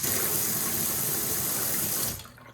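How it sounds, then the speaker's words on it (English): A kitchen faucet with strong water pressure and its aerator removed runs in a loud, steady, close-up gush, then is shut off abruptly just after two seconds, leaving a quiet tail. "Turn on my water."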